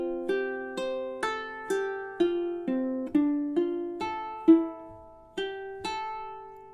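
Ukulele fingerpicked etude played through its first two measures, a close, solo run of about a dozen plucked notes in a steady, gentle rhythm, each ringing softly before the next.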